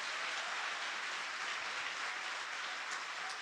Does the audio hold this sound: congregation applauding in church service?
yes